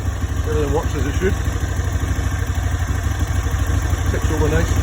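A 2004 Aprilia RSV Mille motorcycle ticks over at idle close by, a steady low engine throb, with someone talking over it at times.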